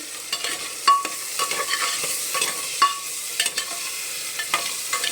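Peas go into a hot pan with masala and are stir-fried, with a soft background sizzle broken by repeated scraping clicks and knocks of a spatula against the pan at an uneven, close rhythm.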